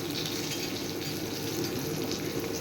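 Cumin seeds and green chillies roasting in a pan for coconut kurma give a steady, even sizzle and crackle that holds at constant loudness throughout, close by with no talking.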